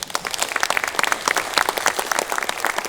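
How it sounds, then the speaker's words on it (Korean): Party lawmakers at a caucus meeting break into applause, a dense scatter of close hand claps sustained throughout with no voices on top. "박수가 나옵니다"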